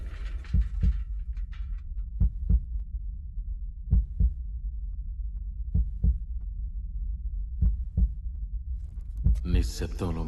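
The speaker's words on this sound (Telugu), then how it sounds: "నిశ్శబ్దంలో మన గుండె చప్పుడు కూడా మనకు భయాన్ని కలిగిస్తుంది" Heartbeat sound effect: deep low thuds in paired beats repeat several times over a continuous low hum, with a burst of other noise at the start and end.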